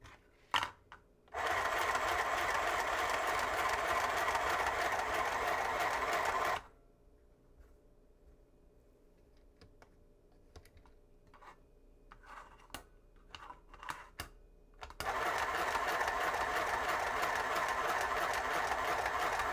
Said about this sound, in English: Now this is a straight stitch machine.